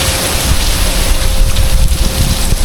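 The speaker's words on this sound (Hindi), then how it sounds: "बहुत तेज़ बारिश हो रही है" Heavy monsoon rain pouring down in a dense, loud roar with gusty, cold wind noise buffeting the microphone, in fog on the road from Pune to Lavasa, India.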